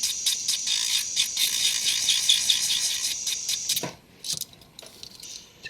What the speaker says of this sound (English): we're going to take this rubber wheel here. This is called a green rubber wheel.